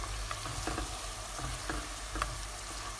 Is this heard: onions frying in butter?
yes